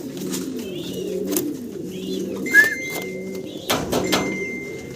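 Pigeons at a pigeon farm cooing in low, rolling repeated calls close by, with a few faint whistles and a brief sharp clatter midway, no talk.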